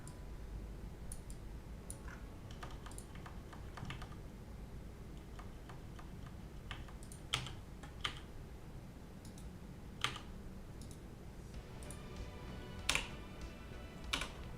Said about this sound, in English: Typing ASMR.